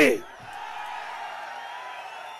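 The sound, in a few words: crowd of people cheering at a political rally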